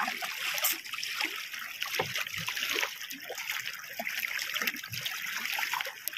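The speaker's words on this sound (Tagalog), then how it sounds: "kalmado yung dagat" Calm sea water laps and trickles near a small fishing boat close to shore at high tide, a steady soft wash of small splashes and dribbles throughout, fairly close, with no voices.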